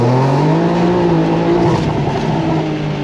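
A BMW G82 M4 accelerates hard through the revs with its tires breaking loose, a loud, steady engine roar rising slightly in pitch throughout, heard up close.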